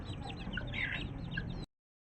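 Backyard chickens in a coop clucking and squabbling over feed, a steady busy stream of overlapping calls at moderate distance, with no one talking.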